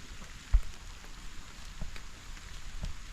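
Rain falling outdoors where goats are tethered, a soft steady hiss of drops with a few slightly louder patters, fairly faint and continuous.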